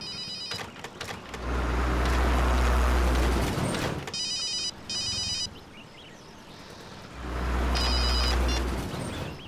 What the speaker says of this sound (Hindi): ओह नो, मॉम का ही फोन है।